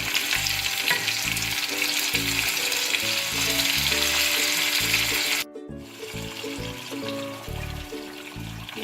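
Chicken karahi masala with tomatoes fries in a pan, with continuous loud sizzling and occasional stirring, a brief drop partway through, then sizzling again, with music playing underneath.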